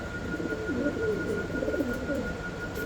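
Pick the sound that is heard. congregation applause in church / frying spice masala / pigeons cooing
pigeons cooing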